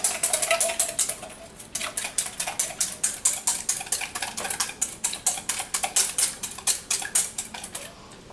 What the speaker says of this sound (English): You just whisk that up, whisk up your eggs, beat your eggs.